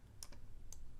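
Two or three quick key clicks on a computer keyboard, typed near and alone against a faint room hum.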